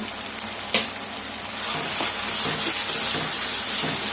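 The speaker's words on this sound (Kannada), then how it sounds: "ಎಲ್ಲ ಸೇರಿಸಿ ಚೆನ್ನಾಗಿ ಕಡಿಮೆ ಉರಿ ಇಟ್ಕೊಂಡು ಫ್ರೈ ಮಾಡ್ಕೊಬೇಕು." Spices frying for capsicum rice in a pan on a low flame, a steady soft sizzle and hiss with a brief clatter early on, moderately quiet and close, no talking.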